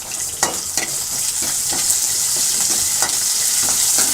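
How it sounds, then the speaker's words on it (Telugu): Curry leaves dropped into hot oil with mustard seeds for tempering bachali kura pappu, a loud close crackling sizzle with sharp pops spattering throughout. "కరివేపాకు వేస్తున్నా."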